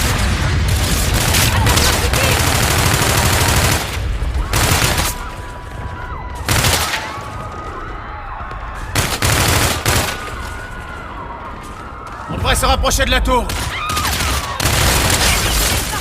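Bursts of rapid automatic gunfire and heavy booms in a video game battle, loud and repeated in clusters with brief lulls between, while players talk over the shooting.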